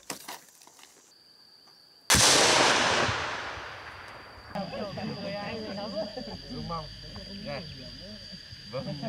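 Hand grenades explode during recruit military training: one sudden loud blast follows a quiet stretch and decays slowly into a long rumbling tail, then voices and shouting rise over the fading noise.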